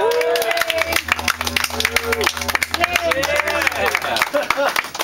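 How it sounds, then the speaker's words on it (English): An audience claps at a house party, a busy patter of hand claps under a loud voice and music, steady through the moment. "Everybody give her a clap."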